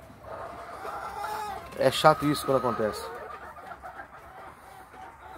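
An injured, limping hen on a farm makes a burst of soft clucks and short calls in the middle of the clip, partly overlapping a person speaking nearby.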